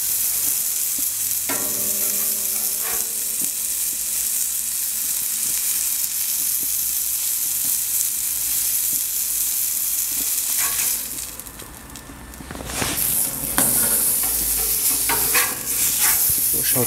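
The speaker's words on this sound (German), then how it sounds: "können wir auch noch mal die Burgerbrötchen ein bisschen anrösten" Burger buns for a stuffed Camembert burger toasting in a hot pan, producing a loud, continuous close sizzle that briefly drops away near the end before resuming with scattered crackles, with no talking.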